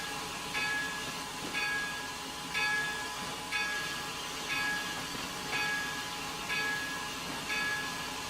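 Train in the Railworks simulator rolling to a stop at a platform, its steady rumble and hiss marked by a regular tone that repeats about once a second, a periodic warning chime, with no talking over it.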